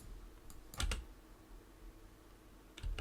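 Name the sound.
pressing keys on a computer keyboard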